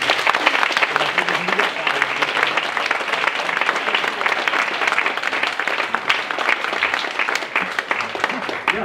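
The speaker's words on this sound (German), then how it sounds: "Jetzt bitte Applaus und macht alle mit, wenn Meinhard Füllner die Bühne betritt" Audience applause at the 16th Schaufenster Geesthacht event as a speaker takes the stage, steady dense clapping from a crowd, continuous and fairly close for the whole stretch, with a few voices underneath.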